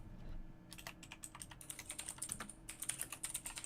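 Rapid, uneven clatter of typing on a computer keyboard, close and fairly quiet, with bursts of keystrokes and short pauses between them.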